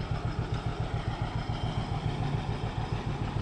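An Allis Chalmers tractor engine runs nearby at a steady idle, a low rhythmic chugging and clatter that keeps an even beat throughout.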